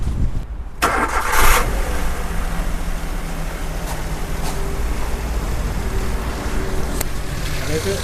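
A used Maruti Alto car starting up, a short cranking burst followed by the engine settling into a steady idle, close by, with people talking over it.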